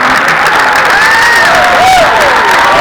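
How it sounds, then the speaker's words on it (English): Loud, dense applause from a large convention crowd at a Q&A with wrestler Ric Flair, steady throughout with some cheering and whistles rising above it. "ladies and gentlemen, please, big round of applause"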